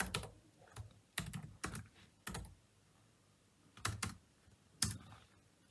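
Someone types C++ code for a guessing game on a computer keyboard, with short quick bursts of close key clicks separated by quiet pauses.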